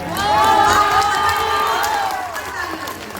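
A mushaira audience in Bhadohi cheers, whoops and claps loudly for a poet, the noise swelling early and then slowly fading, with shouted voices mixed through it.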